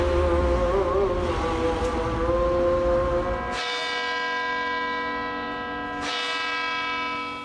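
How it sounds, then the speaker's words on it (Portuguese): A deep cathedral bell in Kosovo tolls at 6 pm with a long ringing decay, struck again after a pause, over a low rumble of distant traffic. "Você pode ouvir a música da mesquita chamando para a oração do pôr do sol e também o sino da catedral,"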